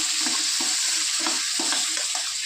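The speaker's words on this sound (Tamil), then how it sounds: "அப்படியே வதக்கி விட வேண்டியதுதான்." Garlic sautéing in a pan for garlic chutney makes a steady close sizzle. A spoon scrapes through it in regular strokes about every half second.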